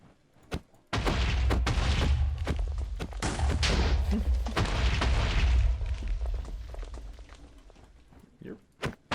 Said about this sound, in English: Staying back so that when the explosion happens, in case it blows up anything